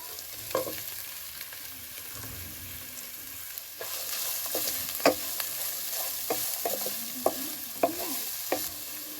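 Grated carrots with carom seeds frying in a pan, giving a steady low sizzle with occasional stirring clicks and scrapes that grow busier in the second half, fairly quiet and close.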